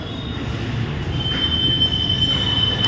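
Kolkata metro train at a station, a continuous loud rumble of rolling carriages with a high, thin wheel squeal rising over it in the second half.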